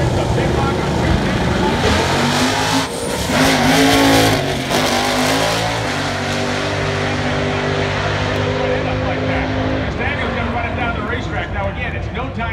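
A Camaro launches in a grudge drag race at Pacific Raceway. The loud engine roars and climbs through rising revs, close and dominant, with a crowd and track noise around it.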